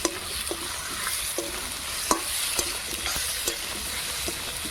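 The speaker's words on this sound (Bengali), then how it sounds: "অল্প ভাজাবো, এখন বেশি ভাজবো না।" Spices frying in a pan for fish curry while being stirred, a continuous sizzle broken by sharp scraping clicks of the spatula at an irregular pace, close and clear.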